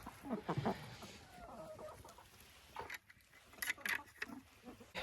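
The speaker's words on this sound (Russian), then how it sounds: "Какая-то курочка вынеслась." Hens clucking inside a chicken coop on a winter farm, several soft clucks and short calls up close, a fairly faint, quiet scene with brief rustling and patter between the calls.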